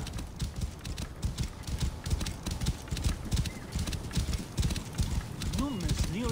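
Horse hooves clip-clop in a quick, steady galloping rhythm while riding in Assassin's Creed Origins, close and continuous, with a whinny near the end and people talking over it.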